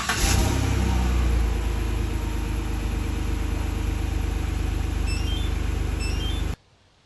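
A 2015 Chevrolet Silverado pickup on its stock exhaust idles with a steady rumble after a brief rev at the start, then cuts off abruptly near the end.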